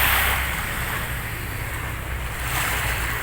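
Sea waves wash onto a beach at Danbantayan, a steady broadband surf rush with some wind noise on the microphone, continuous and fairly loud throughout, with no voices.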